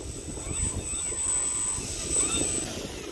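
OMP Challenger RC airplane fitted with Dubro 825 skis flying over snow, its small engine droning steadily at a moderate distance with a faint high whine, no voices.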